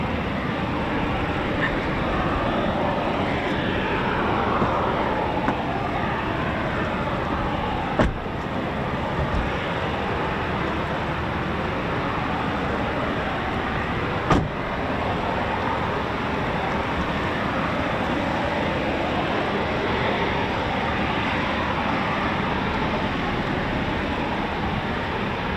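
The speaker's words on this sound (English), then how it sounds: "So Typhoons have started up." Eurofighter Typhoon FGR4 jet engines run after start-up at RAF Coningsby, a steady, unbroken broadband roar from some distance, holding the same level throughout with two brief clicks and no voices.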